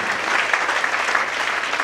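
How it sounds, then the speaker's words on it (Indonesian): Steady, full applause from a church congregation clapping for God, many hands at an even, loud level throughout with no break. "Berikan tepuk tangan yang lebih baik bagi Tuhan."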